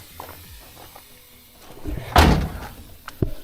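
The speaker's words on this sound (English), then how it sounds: "Your door latches, none of the other doors latch." A car door on a cheap $300 race car swings shut and latches with one solid, close thud, followed by a smaller knock, after quiet rustling.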